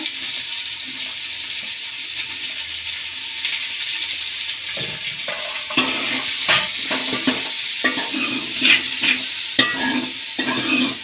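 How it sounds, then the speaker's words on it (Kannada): Onions fry and sizzle in hot oil in a pan, with a steady hiss and repeated scraping stirs that grow busier and louder partway through, no voices. "ಈರುಳ್ಳಿ ಎಣ್ಣೆಯಲ್ಲಿ ಬಾಯ್ಲ್ ಆಗಲಿ"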